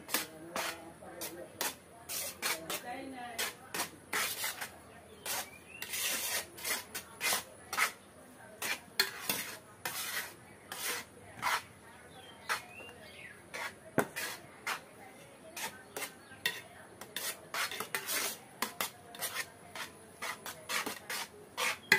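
Maggi noodles are stirred and mixed in a pot, giving repeated scraping and rubbing strokes in an uneven rhythm, close and fairly loud throughout, with faint voices now and then in the background.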